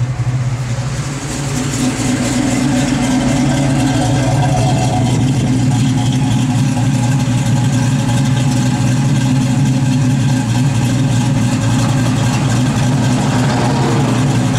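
A 1969 Chevrolet Camaro RS V8 runs steadily and loud close by, its deep low rumble holding without clear rev peaks for the whole stretch, no voices over it.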